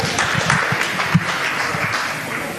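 Audience applause fills the hall, a steady dense wash of clapping from a crowd with a few sharper claps standing out.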